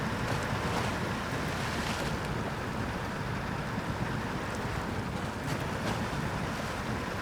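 A heavy custom R&R 8000 Series truck in the SnowRunner video game ploughs into deep water, a continuous loud wash of splashing and surging water under engine rumble, steady and close throughout with no speech.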